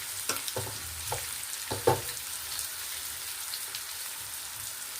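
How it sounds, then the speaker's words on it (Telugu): Powder-stuffed brinjals drop one by one into hot oil in a pan, with a soft steady sizzle broken by a few brief splattering bursts and clunks early on, then a quieter hiss. "నేను పొడితో నింపి పెట్టుకున్న వంకాయలు ఇలా వేసేసుకుంటున్నానండి"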